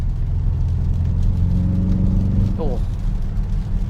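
Aston Martin engine and exhaust in its loud setting, a steady low rumble running throughout with a brief rising rev near the end, while people talk over it inside the cabin.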